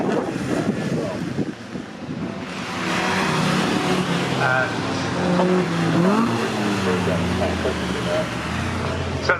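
Historic sports racing cars pass at Cadwell Park. Engine roar rises and fades with a pitch sweep, mixed with wind buffeting on the microphone and a commentator's voice.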